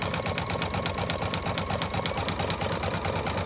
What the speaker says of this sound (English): It's sewing down the satin stitch around the shoe